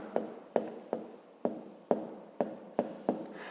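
Pen writing an answer in a fifth-grade maths exercise, heard as eight sharp, evenly spaced taps and scratches close up, each trailing off briefly, with no talk over them.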